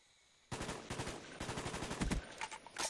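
Rapid bursts of gunfire from Black Ops, the video game, crackle in a quick irregular volley of sharp shots that fill the clip after a brief quiet start.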